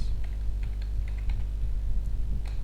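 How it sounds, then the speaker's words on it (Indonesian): Keys on a computer keyboard tap in a quick, uneven run as text is typed, set against a low steady background hum. "Bapak akan ketik dulu sebuah teks"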